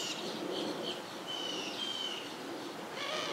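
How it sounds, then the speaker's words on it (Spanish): Birds screeching and chirping in alarm at a hawk perched in a bush, a steady dense chorus of shrill calls filling the air at moderate loudness with no talking. "mira todos los pájaros mandados y chillando"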